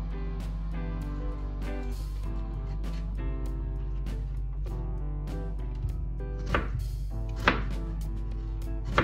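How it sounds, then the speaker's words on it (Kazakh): A knife chops apple into cubes on a board, producing a steady series of crisp, close knocks, with a few sharper, louder cuts near the end. "Сол үшін майдалап турап аламыз,"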